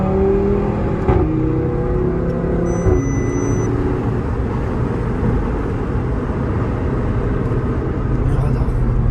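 An Audi RS3 on a Dubai road, its engine revving loudly with rising pitch sweeps early on, then a steady heavy drone of engine and road noise through to the end.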